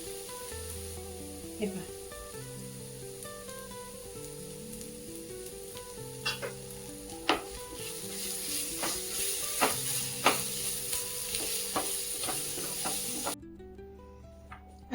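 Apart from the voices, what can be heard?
asafoetida (hing) sizzling in hot oil, stirred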